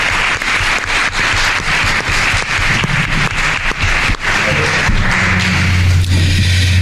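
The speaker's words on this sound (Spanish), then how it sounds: "Vamos a brindarles un gran aplauso" A studio audience applauds at the close of a podcast talk show, steady dense clapping that fills the whole stretch loudly and close.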